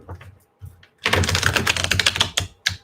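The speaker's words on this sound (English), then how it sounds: "That's a smooth shuffle." A deck of tarot cards is shuffled in a quick burst of dense, crisp papery riffling clicks lasting nearly two seconds, close and fairly loud, after a few faint taps.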